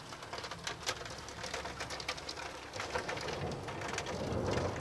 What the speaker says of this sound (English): but all the rain on the window.